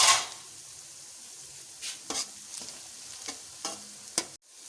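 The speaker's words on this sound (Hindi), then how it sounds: "इन मसालों को हमने डाल दिया है और अब आहिस्ता आहिस्ता हम इसको स्टर कर लेंगे।" Onions and spices frying in a pan are stirred slowly, a soft sizzle under a few separate scraping strokes of a spoon against the pan, fading to quiet at the end.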